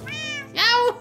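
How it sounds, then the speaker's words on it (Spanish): Two mewing cat cries from Minecraft, the first a longer steady meow and the second a louder, rising then falling meow, both close and clear with no talk over them. "Hacemos un miau."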